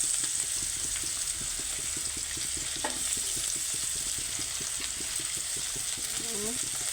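Chopped onion frying in a pan with chilli and garlic, a steady close sizzle with repeated soft scraping strokes running throughout.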